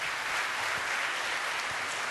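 Audience applause at an award ceremony, steady dense clapping throughout, heard at low level with no talk.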